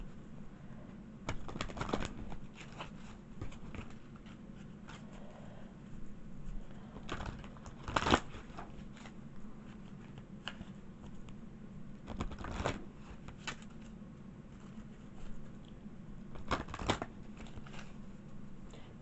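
Tarot-style advice guidance cards are shuffled by hand in a quiet room, with repeated soft riffling bursts and sharper snaps spread across a long stretch, some faint and some close and crisp, no voices over them.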